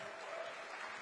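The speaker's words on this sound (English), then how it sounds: "you guys clap like circus seals" A crowd at a Nashville political rally applauds in a dense, steady wash of clapping that lasts the whole moment.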